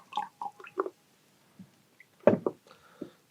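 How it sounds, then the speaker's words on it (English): Liquid is poured out of a film developing tank in a few short, soft splashes and drips, with brief gaps of quiet between them. The sound is faint and close. "I'll put the lid on, shake the devil out of it, pour out"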